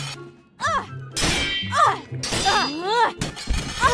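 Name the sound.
sword strikes in combat in a video game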